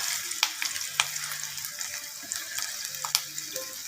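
Peanut paste mixed with gram flour, onion, chilli and salt frying in hot oil in a wok, with a steady crackling sizzle and scattered sharp pops and spatters, close and fairly quiet, no talk.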